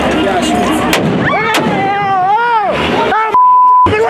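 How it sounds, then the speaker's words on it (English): Police fire stun grenades and rubber bullets at protesting students in a loud crowd scene, with sharp bangs cutting through shouting voices and a steady tone near the end. "police moving in, firing stun grenades, rubber bullets and using a water cannon to disperse the protesting students"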